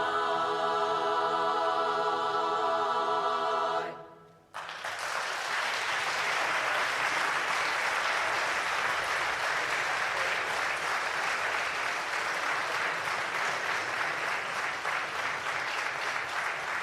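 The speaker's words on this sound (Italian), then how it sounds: "Prolunghiamo questo applauso per le donne di Orosei, coro femminile Urisè" Audience applause follows the Orosei women's choir Urisè at a folk song and music festival in Tonara, breaking out after the sustained harmony of the last sung chord fades, then steady, dense clapping continuing loudly to the end.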